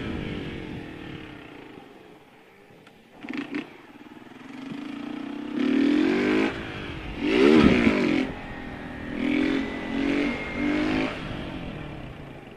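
Small motorcycle engine idling unevenly, then revving in several loud bursts with rising and falling pitch, close by, with no talk.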